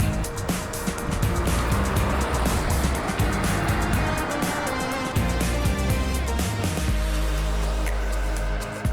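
A Toyota car accelerates hard, its engine roaring and rising through the gears, then easing off as it comes to a stop, loud and close with wind and road noise mixed in and no talking.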